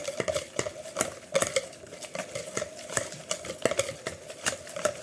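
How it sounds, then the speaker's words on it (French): A utensil stirs savory tart dough with grated gruyère in a bowl, giving repeated rhythmic scraping and tapping strokes, close and moderately loud. "On mélange, on mélange."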